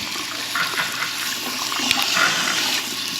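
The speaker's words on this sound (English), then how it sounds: "I try to wash my face off" Tap water runs steadily into a sink during face washing, a close, continuous rushing hiss with faint splashes and no talk.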